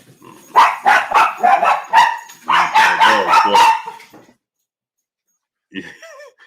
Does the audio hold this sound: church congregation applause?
no